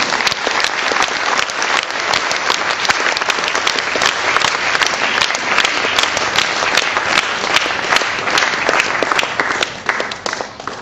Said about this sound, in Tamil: எங்கே உங்கள் கரகோஷம்?